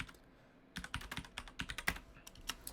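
Rapid keystrokes on a computer keyboard, entering program code in a classroom setting, start after a short quiet pause and then run as a dense, uneven burst of close, crisp clicks with no talking.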